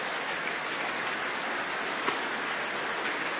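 Heavy rain pours steadily, a dense, unbroken hiss that stays loud and even throughout.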